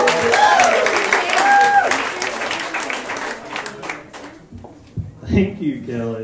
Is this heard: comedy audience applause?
yes